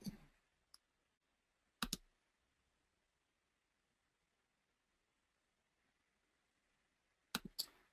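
Mouse clicks on a start button, a few sharp isolated clicks in quiet, with a double click near the start and a quick cluster of clicks toward the end.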